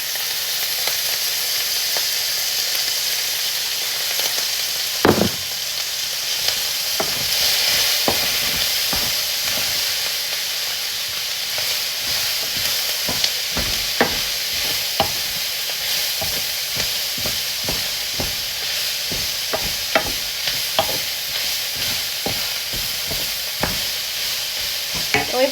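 Pork and vegetables stir-fry in vegetable oil in a pan, a loud continuous sizzle and hiss broken by frequent sharp scrapes and knocks of a utensil against the pan, close and without speech.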